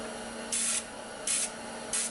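Three short hissing bursts from an airbrush or spray can as paint is directionally sprayed onto a Cthulhu miniature for the board game Death May Die, each about a quarter second long and evenly spaced over a steady low background hum.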